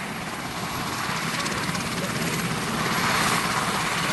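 RAF Sea King rescue helicopter heard close and loud, a steady broadband rotor and turbine roar with a faint rhythmic blade chop, holding constant and swelling slightly toward the end.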